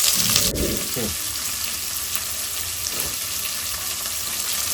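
Onions drop into hot oil in a pan with green chillies and curry leaves, setting off a brief burst of sizzling that settles into a quieter, continuous fry.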